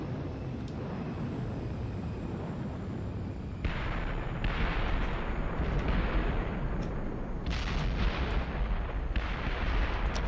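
Gunfire from a teammate in a shark-themed ocean battle royale game: a low rumbling background that turns into a harsher, louder stretch of bursts partway through, with sharp cracks scattered among them.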